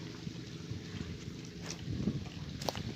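Wind gusts at an island fishing spot in Subay, Cardona, a steady low rush buffeting the microphone with faint knocks and a brief thin sound near the end, with no talking.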